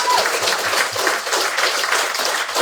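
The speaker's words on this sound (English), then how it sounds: "round of applause" An audience gives a steady round of applause honoring Super Bowl champion Nolan Smith Jr. in his hometown of Savannah, with dense, even clapping filling the room for a few seconds.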